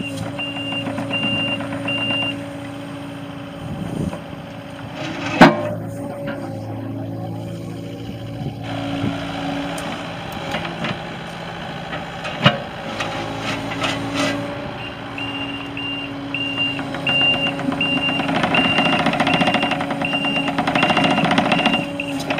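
A 2019 Kubota KX080-4 excavator idles with a steady diesel engine drone, reversing beeps sounding at the start and again later, plus occasional clanks of the machine.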